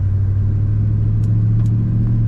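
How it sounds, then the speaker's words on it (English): 1980 Chevrolet K10 Silverado 4x4 pickup with an automatic transmission, its engine idling smoothly with a steady, close, deep exhaust rumble throughout. "This truck starts up and idles nice and smooth right away. It's got a good exhaust sound."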